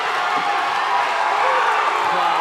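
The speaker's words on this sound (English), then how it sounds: "Crowd here is going nuts" Crowd at a Summit Fighting Championships fight event roaring and cheering in a dense, continuous wash of noise that stays loud and steady throughout.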